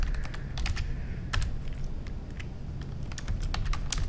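Rapid, close keystrokes on a computer keyboard clatter in an uneven rhythm, mixed with occasional spacebar presses, over a low steady hum.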